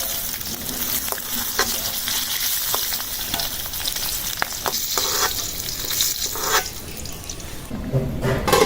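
Rice and lentils sautéing with spices in a pan for vegetable egg khichuri, a continuous loud sizzle with occasional scraping and stirring clatter throughout.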